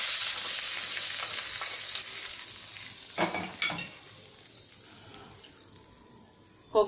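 Mustard seeds, a pinch of asafoetida and three or four dry chillies hit hot ghee for kokum rasam, a loud sizzle that slowly fades, with a few sharp pops and stirring clatters.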